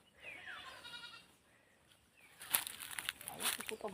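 A goat bleats in a wavering call on a rural farm, followed by louder rustling and outdoor noise, with a person talking faintly.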